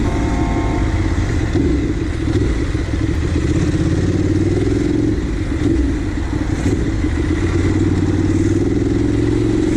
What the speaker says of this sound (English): the blessing of being on a motorbike